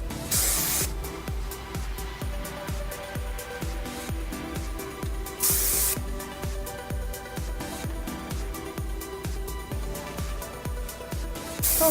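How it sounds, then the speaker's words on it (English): Dry Shine Super Spray hairspray misted onto hair in short repeated bursts, a steady close hiss with rhythmic pulses and two longer sustained blasts, heard alone. "This is Dry Shine Super Spray, one of my favorite sprays."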